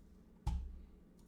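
A single soft mouse click on an apply button in engineering analysis software, one brief close tap in a quiet room.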